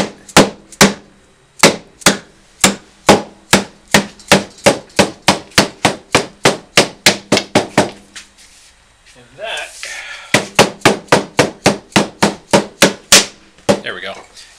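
Steady rapid hammer taps on a metal plywood hauling rack, dozens of sharp knocks in an even rhythm, pausing briefly for a scraping shuffle before the tapping resumes.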